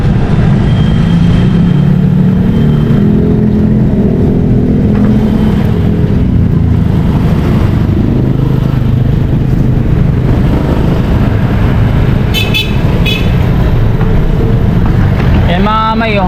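Busy road traffic passing close by, a loud steady rumble of engines with vehicles revving and accelerating and occasional squeaks.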